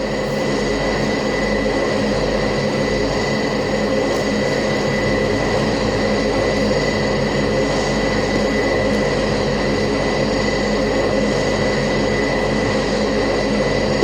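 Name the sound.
turboprop aircraft engine in a flight video game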